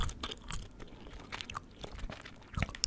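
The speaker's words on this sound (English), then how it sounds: "chewing strawberry bubblegum while playing some Call of Duty" Close, wet chewing of strawberry bubblegum, irregular smacks and crunchy clicks in quick succession, heard alone and up front.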